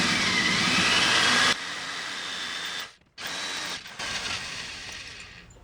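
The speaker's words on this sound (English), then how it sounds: "you can see my drill bit right on down there" A power drill bores into an Edelbrock marine carburetor, a loud whirring spin that drops in pitch and load partway, cuts out briefly, then resumes for another run.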